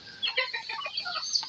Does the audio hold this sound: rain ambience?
no